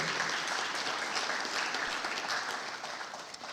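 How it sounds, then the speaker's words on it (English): At a water board annual meeting, an audience gives steady, even applause for a long-serving member, a soft, continuous patter of many hands heard alone, fading slightly toward the end. "So I think a little bit of applause for Tom would be great."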